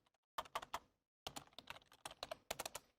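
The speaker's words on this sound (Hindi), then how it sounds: "let's start typing this is my first blog" A computer keyboard is typed on nearby in quick bursts of crisp clicks. The clicks come in clusters separated by short pauses, without any talk.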